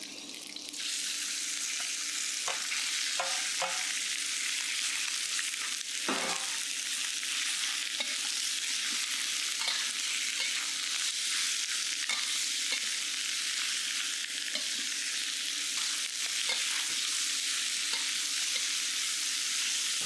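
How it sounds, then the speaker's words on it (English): Garlic and pork belly fry in hot oil, a steady bright sizzle that runs throughout, with a few clinks and scrapes of stirring breaking through now and then. "Fry this garlic and pork belly till the pork turns white and has taken on a little color on the outside."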